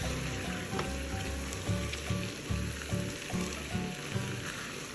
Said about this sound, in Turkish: Patateslerimizi kaşık ya da ezici yardımıyla eziyoruz. Bir yandan da kavrulan soğanla karıştırıyoruz.